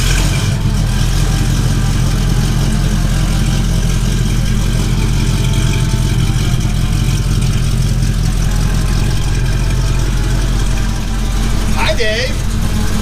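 A 1973 Camaro SS engine idles with a steady, deep, close rumble that continues throughout while people talk over it.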